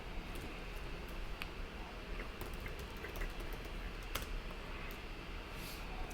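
Keystrokes on a computer keyboard while code is entered, a quiet irregular patter of light clicks over a steady background hiss, with a few sharper taps standing out.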